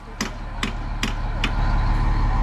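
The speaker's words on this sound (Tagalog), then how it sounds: "Martilyo nga kasi." A hammer strikes four times in a sharp, evenly spaced rhythm, close and loud over a steady low rumbling background.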